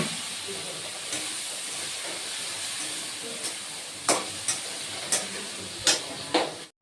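Water splashed into a pan of frying cumin-powder spice paste for a jhinge aloo posto curry, giving a loud steady hiss and steam sizzle, followed by several sharp clinks and scrapes of stirring toward the end.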